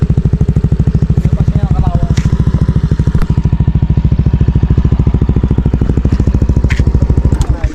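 Motorcycle engine running loud and close, a fast steady pulsing putter for nearly eight seconds with small clicks and clatter over it.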